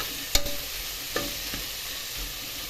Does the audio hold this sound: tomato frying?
yes